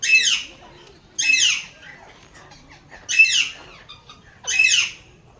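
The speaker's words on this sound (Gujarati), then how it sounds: "આ છે પહાડી પોપટ" A hill parrot squawks loudly four times at regular intervals, harsh and close, with quiet pauses between each call, at a zoo in Gandhinagar.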